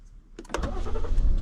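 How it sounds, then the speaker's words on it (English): A 2015 Ford Explorer engine cranks and catches, a brief starter whir and then a rising idle rumble close by, with no talk. "I'm just gonna start the engine."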